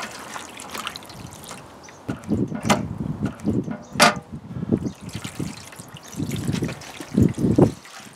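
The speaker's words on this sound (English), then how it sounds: "To relax the old rubber, you can pour some hot water on it." Hot water poured over an old rubber valve cover gasket on a Peugeot 307 engine, heard as close, uneven trickling and splashing in bursts with short pauses between pours.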